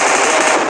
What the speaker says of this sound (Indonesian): Pemain Cina Ayala menembak